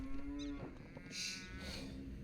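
A single cow in Age of Empires 2 gives a low, drawn-out moo, quite faint, with a few other game sounds around it.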